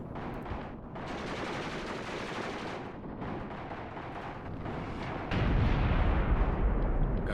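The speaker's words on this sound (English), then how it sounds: "those are actually just grenade throws there, trying to take out the APC" Grenades are thrown at an armored personnel carrier in a war game set in the 1980 battle of Khorramshahr. A steady din of battle noise runs under the attack, then a much louder, heavier blast surges in and holds.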